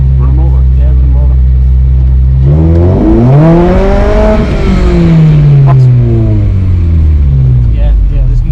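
A homemade car with no brakes drives past and accelerates, its engine rising in pitch with a loud revving sweep and then falling away, close and loud, with voices talking over it.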